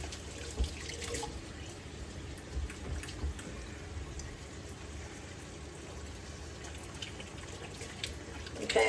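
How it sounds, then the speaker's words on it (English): A tap runs while hands are washed at a home sink, a soft steady stream of water with faint splashes and a few light knocks, fairly quiet and close. "Now let me wash my hands real quick"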